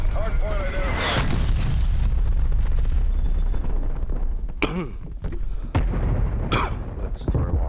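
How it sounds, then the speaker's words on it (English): An incoming artillery barrage in Call of Duty: Cold War, heavy booming explosions and rumbling impacts that keep going throughout, with a radio-style voice and other talk over the blasts. "Hostile artillery targeting active. Artillery inbound."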